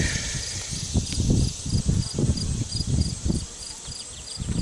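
Honey bees buzz in a thinned-out hive during an inspection after colony loss, a steady mid-level drone with a faint high whine and scattered soft knocks of frames being handled, no voices.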